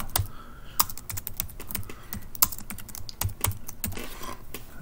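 A name being typed on a computer keyboard while setting up HVAC equipment definitions in building-management software, with rapid, uneven, close key clicks continuing throughout and no talk.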